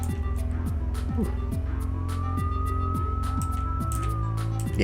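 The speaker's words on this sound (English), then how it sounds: "Oh, that's a siren." Police siren from the video game Hotline Miami, a single rising and falling wail sweeping across a few seconds over a dense, pulsing electronic music track, moderately loud in the mix with game sounds around it.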